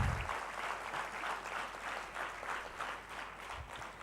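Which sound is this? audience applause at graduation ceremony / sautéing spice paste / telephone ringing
audience applause at graduation ceremony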